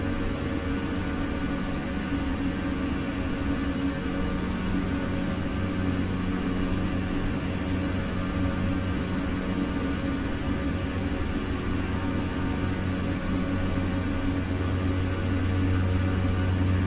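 Dash 8-100 turboprop engines droning in Flight Simulator X, a steady near hum with low tonal bands holding evenly throughout, nothing else over it.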